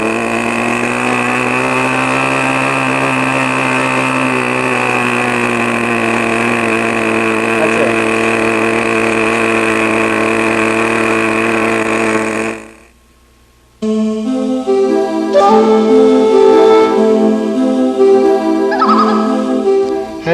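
RC model airplane engine, a Great Planes PT trainer, running at full throttle: a loud, steady high-pitched buzz for about twelve seconds, a short drop to near silence, then the whine resumes at a shifting pitch.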